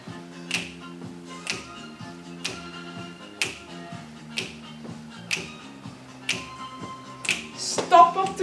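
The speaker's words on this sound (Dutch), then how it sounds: "het lukt of je je vingers kan klappen." Crisp finger snaps keep a steady beat of about one per second in a home exercise session, close and clear over quiet background music.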